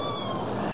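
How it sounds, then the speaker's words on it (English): A short, kitten-like mew from a killer whale, the S16 call of K-pod, rises as one sustained whistly tone with bright harmonics, heard alone and cutting off abruptly. "K-pod has the S16 call, which sounds a bit like a little kitten mew"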